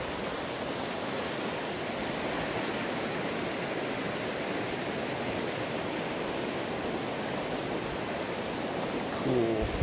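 Poudre River water rushing steadily past an island about 20 miles up the canyon, a constant broadband wash with no pauses, close and even in level throughout.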